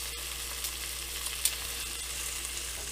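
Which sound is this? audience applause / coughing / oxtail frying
oxtail frying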